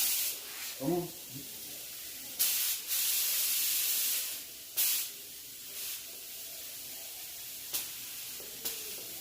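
A paint spray gun releases several loud hissing bursts of spray, some long and some short, separated by pauses, with a voice speaking briefly near the start.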